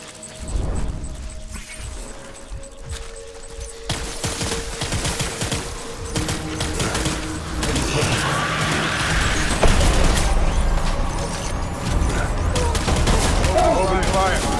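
Heavy gunfire in the video game Death Stranding: dense, overlapping bursts and booms roll on for the whole stretch, thickening and growing louder toward the middle, layered over rumbling game sounds and a faint voice.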